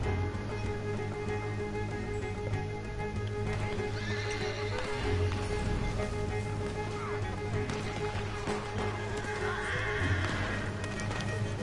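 A horse in the video game Red Dead Redemption 2 clip-clops and neighs over a steady bed of game ambience and music, the whinnies surfacing around the middle and near the end at moderate loudness.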